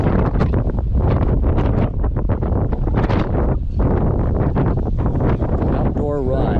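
Strong outdoor wind of about 25 mph with gusts to 37 mph buffets the microphone during a run, a loud continuous roar with gusty surges, while a person talks over it.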